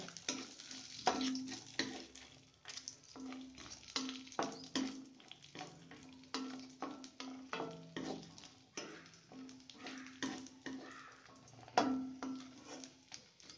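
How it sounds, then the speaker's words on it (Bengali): Raisins and cashews stirred in ghee in a pan while making vermicelli payesh, giving a faint sizzle broken by rhythmic scraping strokes of a spoon, quiet and close with no speech. "আর কিশমিশ গুলো দিয়ে দেবো দিয়ে অল্প নেড়ে দেবো"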